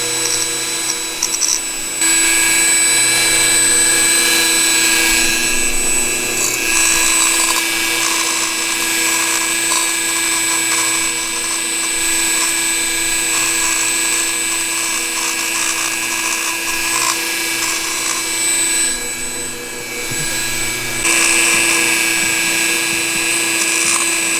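A rotary power tool ports a Polini Corsa 72cc big-bore scooter cylinder for a Honda Dio Elite, cleaning up rough edges. It gives a steady, close, high-pitched grinding whine that runs almost nonstop, with only brief dips, and no one speaks.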